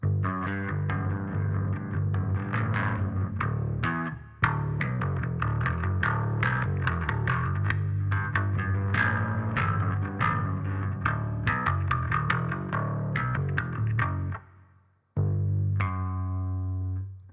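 Bass guitar played through effects such as chorus and echo, running through a song outro in steady rhythmic phrases with sustained low notes, briefly dropping out near the end before a final ringing tone.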